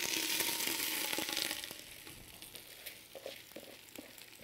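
Rice and tomato paste frying in oil for an oven-baked upside-down rice dish, a steady close sizzle that eases slightly partway through, with a few soft clinks and stirring knocks near the end.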